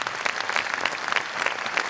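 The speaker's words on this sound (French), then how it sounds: "Vous l'applaudissez une nouvelle fois très fort" A ceremony audience applauds an honoree named solidarity-minded elected official of 2021, a dense, steady wash of many hands clapping close by for about two seconds without voices.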